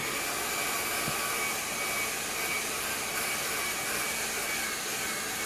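A hair dryer running on its cool setting, blowing a steady, loud, broadband whoosh with no variation and no voices.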